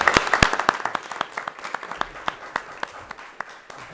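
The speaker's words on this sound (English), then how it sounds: "So I want to applaud you both." A small group at a board of education meeting claps, with sharp individual hand claps standing out, loud at first and thinning to sparse, distinct claps by the end.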